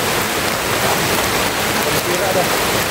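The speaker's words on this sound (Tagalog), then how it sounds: "Kanina umulan, ngayon umulan na naman." Rain falls steadily outdoors, a continuous broadband hiss that stays even and fairly loud throughout, with no talking.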